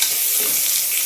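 Mint pulao ingredients stirred and tossed in a hot frying pan, a loud, close, continuous sizzle with scraping stir strokes running throughout.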